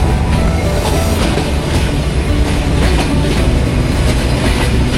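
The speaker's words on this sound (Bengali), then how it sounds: "এখন জয়পুরহাট স্টেশন থেকে আমাদের ট্রেন ছাড়লো।" A passenger train pulls out of Joypurhat station in Bangladesh, its loud, steady rolling rumble heard from on board with rhythmic clickety-clack of wheels over rail joints.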